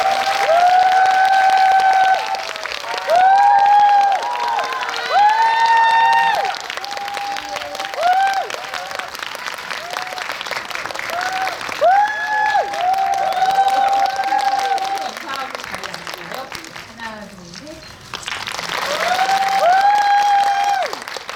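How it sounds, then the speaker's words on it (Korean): Applause from a cinema audience greets actors and a film director at a movie talk event in a Megabox COEX theater hall, sustained clapping that rises and falls over about twenty seconds, with a bright musical tune playing throughout. "박수로 맞이해주세요."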